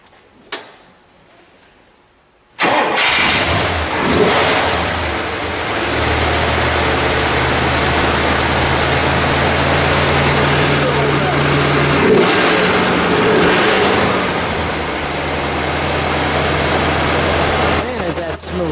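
A black 1960 Chrysler 300F convertible with its 413 engine cranks briefly after a quiet moment, then catches and settles into a loud, steady rumbling idle close by, with a couple of light blips of the throttle partway through.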